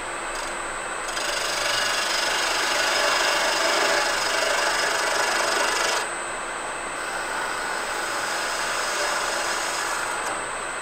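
Fluteless gouge cutting a spinning wood piece on a lathe, a steady close hissing, shearing whir that swells slightly in the middle and dips briefly around six seconds before resuming.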